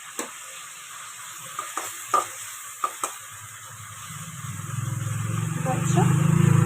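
Grated onion added to hot oil for chicken biryani, first a few sharp utensil clinks and taps, then a sizzle that swells louder toward the end while a person talks.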